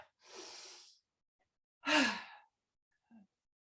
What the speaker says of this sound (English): inhale, lift the arms up